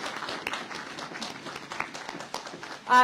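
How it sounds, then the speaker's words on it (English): Light applause for a store team at a supermarket grand opening event, a soft, scattered patter of clapping from a small gathering, ending with a louder burst at the close. "can we give one more round of applause to the Sprouts team"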